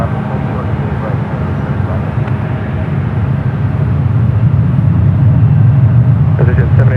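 A Boeing 777 rolling down the runway at San Francisco International Airport, a steady low jet roar that swells gradually louder over the seven seconds, heard from a distance with no talking over it.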